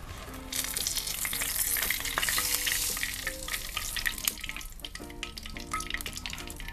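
Belyashi meat pastries fry in a pan with a steady, close sizzle and crackle, broken by occasional scrapes and knocks of utensils, with no talking.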